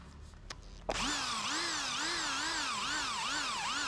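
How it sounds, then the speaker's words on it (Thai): A power drill spins up suddenly and bores a hole for a spotlight bracket on a Honda CT125, its whining motor pitch wobbling up and down as it bites into the metal, loud and close after a few soft knocks. "เจาะรู เจาะรูเสร็จเรียบร้อยแล้ว"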